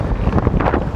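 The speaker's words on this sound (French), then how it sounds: "il y a un vent de ouf." Strong coastal wind buffets the microphone near a boat landing in the Egadi Islands, Sicily, a loud, continuous roaring rumble with no speech.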